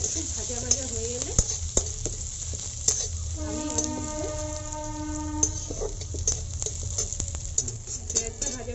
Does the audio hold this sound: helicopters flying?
no